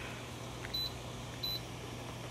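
Two short electronic beeps from an essential oil diffuser being set by remote, faint and spaced under a second apart over a steady room hum.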